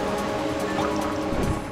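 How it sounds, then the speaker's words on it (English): Water flows steadily in the game Zelda: Twilight Princess HD, a continuous close wash with faint gurgles and drips that holds even across the moment, no voices over it. "this place is flowing with water now because I fixed the thing"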